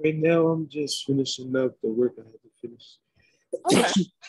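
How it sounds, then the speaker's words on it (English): A single sharp sneeze bursts out near the end, loud and close, after a stretch of a person talking. "Bless you if you just sneezed."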